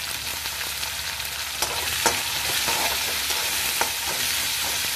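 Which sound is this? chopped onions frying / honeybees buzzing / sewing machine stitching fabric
chopped onions frying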